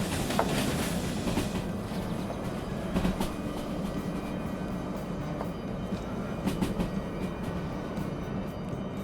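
A DE6 locomotive hauling wagons in the train game Derail Valley, giving a continuous loud rumble with rhythmic clickety-clack of wheels on rails throughout.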